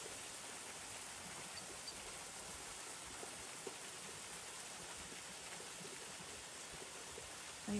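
Hail falls steadily outdoors in winter, a dense, even hiss of pellets striking the ground and surfaces, faint and unbroken, with no voices.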